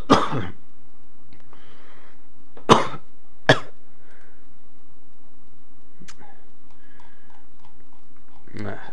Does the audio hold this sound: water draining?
no